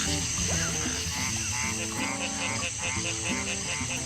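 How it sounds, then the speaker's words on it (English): A large female bullfrog croaks in the Blackwater Swamp, with repeated low, pulsing calls that blend into a dense, steady wildlife chorus holding at an even loudness throughout. "So this is a really large bullfrog."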